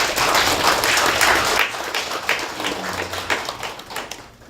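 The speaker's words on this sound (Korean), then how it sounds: "우리 신부님에게 박수 한번 주시겠어요?" Audience clapping for a Jesuit priest at a Buddhist studies academic workshop, a moderate burst of applause from a modest room crowd that thins and tapers off toward the end.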